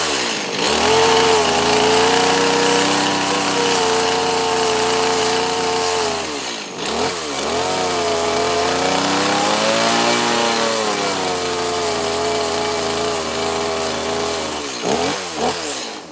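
Gasoline chainsaw carving a small wooden bear, loud and close, engine holding a steady high whine with two brief throttle dips and revs before settling again.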